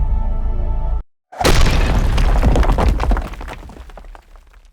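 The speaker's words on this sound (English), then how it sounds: "the team lined the thick layer of stone with explosives and proceeded to blast their way through" Explosives blast through a thick layer of stone, a sudden heavy boom after a brief silence, followed by a rumbling, crackling roar of breaking rock that fades over a few seconds, preceded by a low droning hum.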